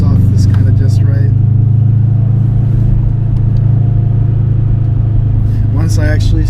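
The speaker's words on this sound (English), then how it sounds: "it brings the little Subaru rumble out" A Subaru WRX sleeper build rumbles steadily from inside the car, a loud, deep engine drone that holds constant throughout with a few faint higher squeaks above it.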